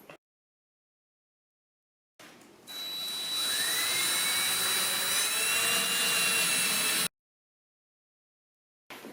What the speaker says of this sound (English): He's drilling a 3/16 hole now, which is the final